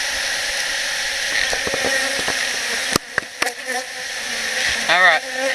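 Honey bees buzz around an open hive box during an inspection of an old colony. A dense, continuous drone sounds close by, with individual bees whirring past, while a few knocks and clunks from the hive equipment break in partway through.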